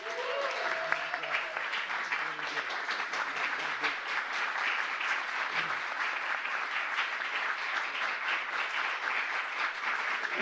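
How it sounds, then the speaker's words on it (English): Loud, sustained audience applause fills a hall at a presidential event on judicial confirmations, dense clapping continuing steadily without pause. "I'm sure you're clapping because I finally showed up."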